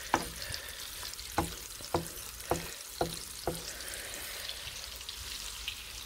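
Onion fries in a pan with a soft, continuous sizzle, while a utensil stirs and scrapes it in a run of evenly spaced taps, close and fairly quiet, with no talk.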